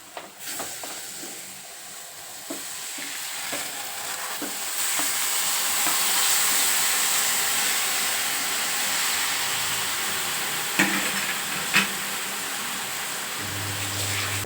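Grated beetroot fries with onions in a pan for beetroot palya, making a steady sizzle that grows louder and fuller, with occasional scrapes and knocks of a spoon stirring the mix.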